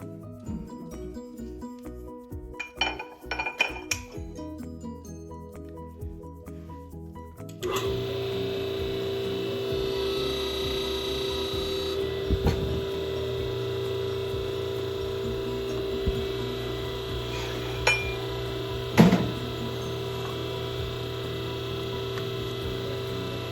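A rolling mill presses a copper sheet to give it a leather-like texture. A few soft clicks come first, then a steady mechanical hum begins and continues evenly, with a brief louder thunk partway through.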